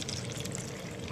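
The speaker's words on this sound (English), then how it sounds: "I'm going to pour some cabbage juice into them." Purple cabbage juice pours into cups with a steady, close liquid splash and gurgle that runs unbroken throughout.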